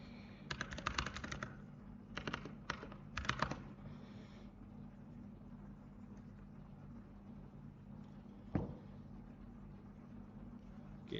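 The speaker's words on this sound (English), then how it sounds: "We can type anything that we want." Several quick bursts of keystrokes on a computer keyboard early on, then a low steady hum with a single click later, close and fairly quiet, no talk.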